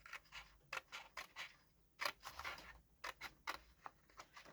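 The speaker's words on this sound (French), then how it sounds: "je découpe avec mes ciseaux" Scissors cut paper for a handmade gift notebook: a quick series of crisp, close snips in an uneven rhythm, each a short sharp crunch, with quiet gaps between them and no talking.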